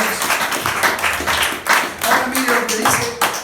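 A church congregation claps in rapid, irregular bursts, close and lively, with voices calling out amid the applause.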